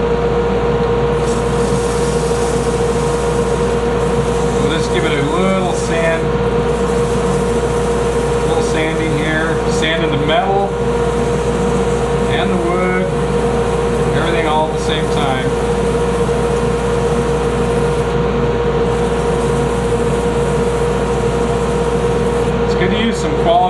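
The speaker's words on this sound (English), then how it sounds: "I'm just going to go straight to 600 grit, just Turner's sandpaper." Wood lathe turning a bangle at its lowest speed setting while it is sanded with 600-grit turner's sandpaper, a loud constant motor hum and whir with faint rubbing, and a voice talking over it throughout.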